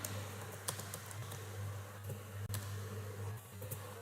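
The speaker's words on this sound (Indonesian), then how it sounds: "Kemudian kita ketik lagi" Rapid keyboard clicks as someone types commands while configuring a Cisco network switch, short taps scattered irregularly over a steady low electrical hum, fairly close and moderately quiet.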